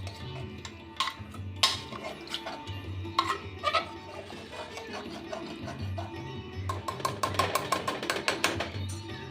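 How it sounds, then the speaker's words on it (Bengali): Metal spoon scraping and clinking against a pot while mutton is stirred with ghee, irregular light knocks and scrapes, with a louder flurry of clatter near the end over a low steady background hum. "ঘি দিয়ে নেড়ে দেব।"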